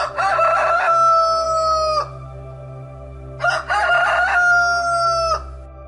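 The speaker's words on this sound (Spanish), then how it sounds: "Y enseguida cantó un gallo." A rooster crows twice, loud and close, each long cock-a-doodle-doo call ringing out clearly with a short pause between, no voices over it.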